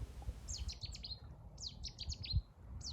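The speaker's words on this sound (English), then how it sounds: "the sound in this next recording is the call of a Chetty's warbler" A Cetti's warbler gives two loud, rapid bursts of sharp, explosive chirping notes, followed by the start of a third, clear over a low outdoor rumble in the rain.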